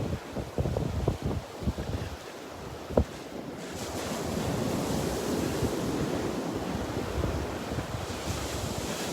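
Wind and surf on a Gulf beach: a few soft thumps of footsteps or wind buffeting at first, then a steady, broad rush of waves and wind noise against the microphone, moderately loud and continuous.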